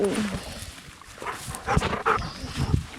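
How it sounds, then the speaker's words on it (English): A wild puppy outdoors in cold snow whimpers and lets out a few sharp barks amid rustling and breathy panting, close to the microphone, with no clear talk. "He's a wild puppy, isn't he?"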